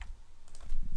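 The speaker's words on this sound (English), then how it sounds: "now what we can do is we can go ahead and start to type" Several quick keystrokes click on a computer keyboard, close and fairly crisp, within about a second.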